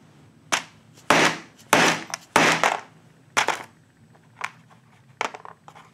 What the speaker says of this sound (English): you can cut you off a piece like this and then cut these in the smaller shot